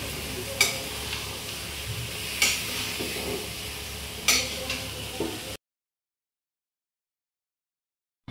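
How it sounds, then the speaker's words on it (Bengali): Chicken for dhania chicken sizzles in a pan while a spatula scrapes and stirs it in three distinct strokes, then the sound cuts to silence. "এবারে ভালো করে মাংসটাকে কষাতে হবে।"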